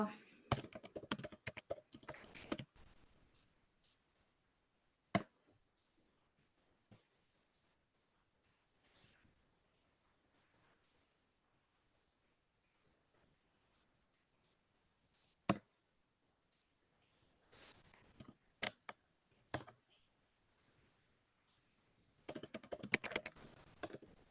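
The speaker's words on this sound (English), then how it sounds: "I am typing." Bursts of fast computer-keyboard typing open and close the passage, separated by a long quiet stretch broken only by a few isolated key clicks and short taps.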